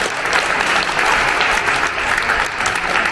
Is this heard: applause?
yes